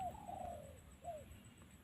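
A bird gives a faint drawn-out call followed by a shorter answering note, distant and alone against low background noise.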